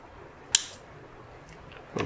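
A cutter snips a branch of a 20-year-old Ficus virens bonsai during pruning, heard as one sharp, close click, with a softer rustle near the end, in a quiet setting.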